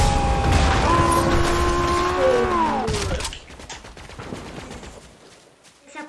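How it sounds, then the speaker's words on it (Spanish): Gunfire in the video game Fortnite, a loud burst of booming shots and rapid bursts over game sound with a rising tonal effect in the first three seconds, then quieter scattered shots. "Oigo los disparos, pero no oigo la gente."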